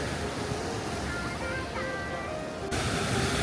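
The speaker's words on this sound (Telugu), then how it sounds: "వేవ్స్ వచ్చి ఆ రాయికి ఎంత గట్టిగా గుద్దుకుంటున్నాయో, అసలు స్ప్లాషెస్లో ఎగురుతున్నాయి మొత్తం నీళ్ళు" Sea waves crash against rocks on the Goa coast in a constant, loud roar of surf and spray that runs through the whole stretch without a break.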